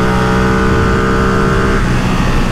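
A Ducati Streetfighter V2 motorcycle at speed: a loud, close, sustained engine roar with a steady tone that shifts partway through as revs change, heavy wind noise underneath, no talk.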